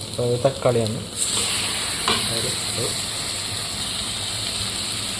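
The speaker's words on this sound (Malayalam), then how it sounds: "ഇനി നമ്മൾ കുറച്ച് തക്കാളി ചേർക്കാൻ പോവാണ്" Tomatoes go into a pan of onions already frying, producing a steady close sizzle with stirring sounds for several seconds. Brief speech is heard at the start.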